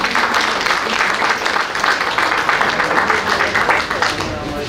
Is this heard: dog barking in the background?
no